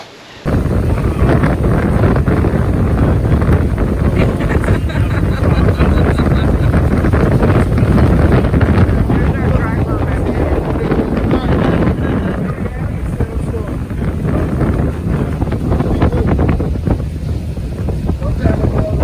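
Loud, constant wind buffeting the microphone in rough gusts during a rainstorm, with a faint voice now and then beneath the roar.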